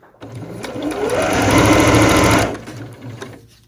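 Sewing machine stitching a fabric seam on a face mask, a rapid whirring run that builds, holds for about two seconds, then stops, close and loud.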